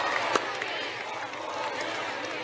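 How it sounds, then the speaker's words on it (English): A crowd at an outdoor Trump rally in Circleville, Ohio, keeps up a broad, steady wash of cheering and scattered shouts, with a few brief claps standing out near the start. "That cheering was for you, Keith, I think."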